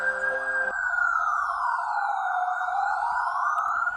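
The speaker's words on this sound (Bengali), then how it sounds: "সম্বিত ফিরল পুলিশের সাইরেনের আওয়াজে" A police siren wails loud and close, its pitch sweeping steadily up and down in one continuous tone with no other sound.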